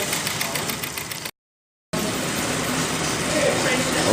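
A steam engine runs at a steam fair, a steady mechanical chugging that carries on loud and close. It cuts out to silence for about half a second, then resumes just as strongly.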